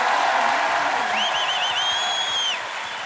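A gymnasium audience at a comedy show gives a dense, sustained round of applause that swells and then fades slightly at the end, with a high whistle-like whoop rising and wavering over the clapping.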